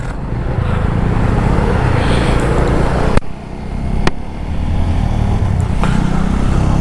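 A TVS Apache 200 motorcycle riding on an open road, with a loud continuous engine drone and rushing wind, a couple of sharp knocks and a brief dip midway.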